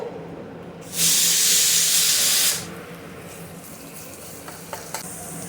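Garlic paste sizzles in a hot pan for sambhar, a loud burst of hissing frying that starts sharply, holds for about a second and a half, then settles to a quieter sizzle with a few faint clicks.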